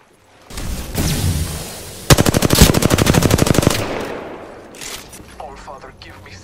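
Video game gunfire: a sustained burst of rapid automatic shots, loud and close, framed by rumbling battle noise and followed by scattered distant shots, with a voice speaking at points.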